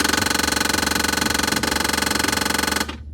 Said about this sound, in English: That annoying sound you just heard is the sound that was coming from our 22-year-old GE Monogram side-by-side refrigerator